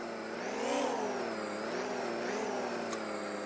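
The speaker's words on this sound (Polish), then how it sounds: "Tym razem, przestawimy taśmociąg ciągnikiem, będzie szybciej." Steady mid-pitched tractor engine hum in Farming Simulator as it moves a conveyor belt, revving up slightly and wavering in pitch, with a faint click near the end.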